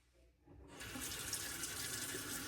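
Tap water runs into a bathroom sink to rinse off after a shave, starting quietly and then gushing in a steady, close, hissing stream until the end.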